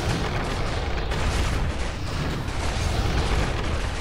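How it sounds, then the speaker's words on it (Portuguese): Tower under attack in Warcraft 3: dense, continuous game battle noise with booming impacts and gunfire-like blasts layered throughout, loud and steady with no talk. "Atire aqui nessa torre para ela não atirar na gente."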